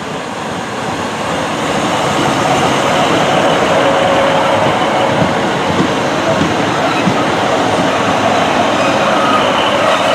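A Class 153 diesel train at Yatton station moving with a loud, steady rumble and a high wheel squeal running over it, close to the listener.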